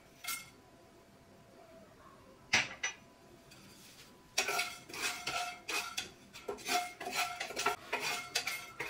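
Whole spices dry-roast in a pan on medium to low flame while a metal spoon scrapes and clinks against it, sparse at first and then in quick repeated strokes, close and without talk.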